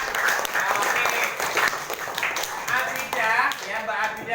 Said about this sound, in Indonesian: Tepuk tangan buat Abidah ya.